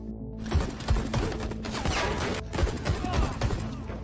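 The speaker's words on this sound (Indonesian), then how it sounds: "Di luar terjadi baku tembak" Gunfire from a film shootout crackles in scattered, muffled shots and short bursts, fairly quiet and irregular against a low rumbling background.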